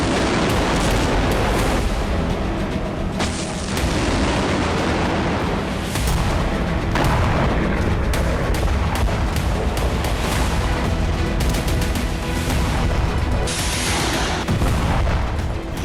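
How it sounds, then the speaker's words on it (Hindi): Dense, rumbling booms of missile strikes and artillery fire roll on continuously in the Kursk region of Russia, where ATACMS and Storm Shadow missiles are hitting, with loud overlapping blasts and sharper reports breaking through a constant roar. "अब यहां अटैक एमएस और स्टॉर्म शैडो से धमाके हो रहे हैं।"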